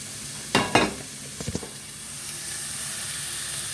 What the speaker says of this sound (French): Maintenant, on va passer à l'étape suivante, c'est de faire revenir les oignons.